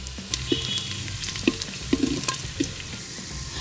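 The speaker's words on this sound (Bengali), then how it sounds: "পেঁয়াজটা ভাজা হয়ে গেছে" Chopped onion sizzles in hot oil for a village-style veg handi polao, a steady close crackle broken by sharp scraping clicks as a spoon stirs the pan.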